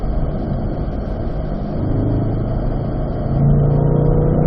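A C8 Corvette accelerates on a race track, its engine a loud, steady close-up roar that swells and climbs in pitch toward the end.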